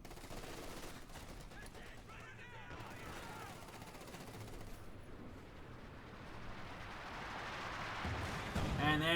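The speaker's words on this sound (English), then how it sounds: "lots of shots firing down machine gun there" Machine gun fire rattles in bursts amid a wider battle soundscape of shots and distant blasts in the Company of Heroes 2 strategy game, with a commentator talking over it.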